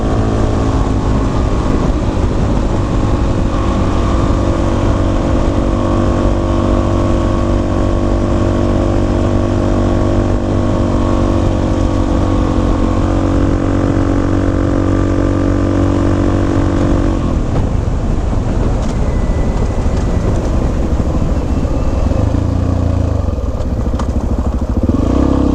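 Dual sport motorcycle climbing a forest trail in Lincoln National Forest, New Mexico, its engine roaring loud and close throughout with steady drone and shifting revs, plus clattering as the bike works up the slope.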